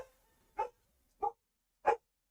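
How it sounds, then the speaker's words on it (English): A dog barks indoors with three short, separate barks at an even pace, mid-distance and fairly loud against an otherwise quiet room. "Sorry, the dog's barking again."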